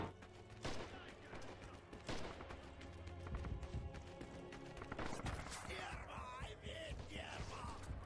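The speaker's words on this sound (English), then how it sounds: "You're shooting at someone." Gunfire crackles in the World War II shooter Red Orchestra 2 as scattered, fairly faint shots and bursts over rumbling battlefield noise, with people talking throughout.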